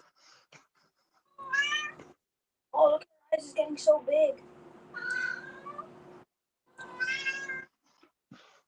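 A domestic cat meows several times at close range indoors, short tonal cries spaced between bursts of conversation, with people chatting and reacting around it.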